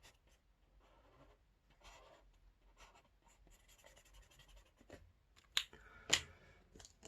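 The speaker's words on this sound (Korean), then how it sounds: "형광 노랑으로 또 이렇게 색칠을 해볼게요" Yellow highlighter rubbing back and forth on paper while coloring in, soft quiet scratchy strokes in short bursts, ending with a couple of sharper clicks or taps.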